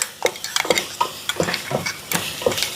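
A spoon stirs biryani masala in a pan, a busy run of scraping, clinking strokes over a light sizzle, close and fairly loud, no talking.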